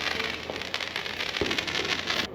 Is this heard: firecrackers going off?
yes